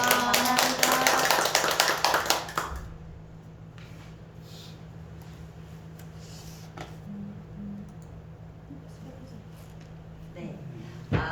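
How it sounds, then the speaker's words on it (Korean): An audience at a company lecture on amino acids gives a brief, dense round of clapping for about two seconds. The clapping then falls away to a quiet room hum. "박수 한번 쳐드릴게요"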